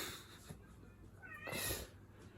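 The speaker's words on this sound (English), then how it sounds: "Hear that cat meowing in the background?" A cat meows indoors in the background, a couple of faint drawn-out meows, the clearer one rising near the end amid quiet room noise.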